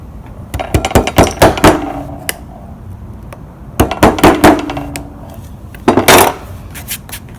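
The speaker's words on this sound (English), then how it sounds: "Might have to chisel a wee bit more." A chisel striking and paring wood for a steam-bending iPad stand project, in three clusters of sharp, close, loud taps separated by short pauses.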